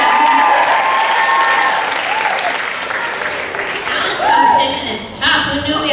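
A live crowd gives a performer named Mike loud, continuous applause with cheering and whoops over dense clapping, with voices shouting through it and a short surge near the end.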